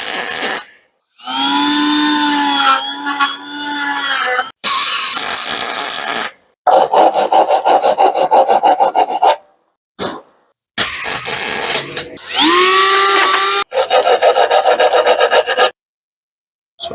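A hand file scrapes across a welded aluminum bicycle frame in repeated strokes, sharp loud rasping bursts separated by short silences, with some strokes ringing with a metallic squeal.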